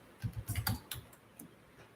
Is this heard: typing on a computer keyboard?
yes